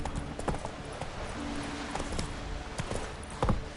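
The horse Roach trots in the video game The Witcher 3, hooves clip-clopping in a quick irregular rhythm at moderate volume, with faint background ambience and brief louder thuds near the end.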